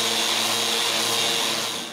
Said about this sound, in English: I begin by sanding the bottom of the lamp.